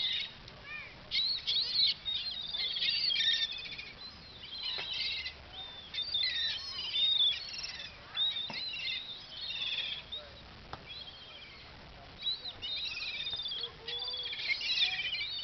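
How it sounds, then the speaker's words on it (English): Wild birds chirp and trill outdoors in a steady busy chorus of high calls throughout, fairly faint and distant, with no one talking. "Oh, you're looking at the birds"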